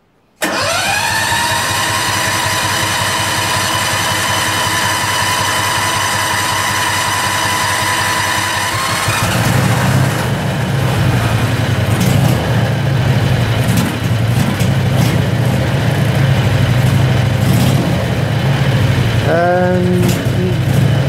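A Predator 670cc engine cold-starts without choke: a short cranking whine catches, and the engine settles into a loud, steady running drone that carries on alone close to the microphone.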